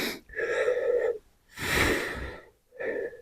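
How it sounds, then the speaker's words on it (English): Deep, audible breathing during a morning stretching exercise: three loud, close breaths, each drawn and released over about a second, separated by short silent pauses. "breathing."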